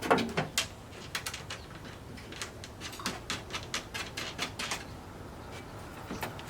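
Metal nuts being spun onto bolts by hand during a repair, giving a close series of light clicking, ratcheting ticks in irregular bursts over a faint background hiss.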